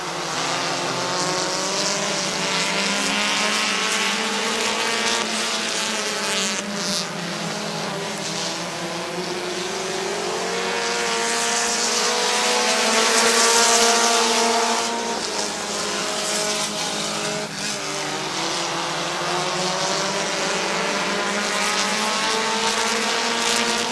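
Race cars roar around the oval at Midvale Speedway, engine notes rising and falling as the pack sweeps past, loud and continuous with a swelling peak midway and no clear talk over it.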